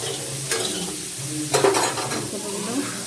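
Cauliflower pieces frying in oil in a kadai, a close continuous sizzle broken by a few sharp stirring scrapes and utensil clinks against the pan.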